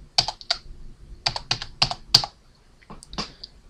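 Fingers tap a shortcut on a computer keyboard, a close series of sharp clicky keystrokes in small irregular clusters with brief pauses, no voices.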